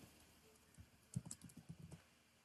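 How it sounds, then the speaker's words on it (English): Quiet typing on a computer keyboard, a short run of soft keystrokes lasting about a second, close but faint, with no talk. "Now type in the bio."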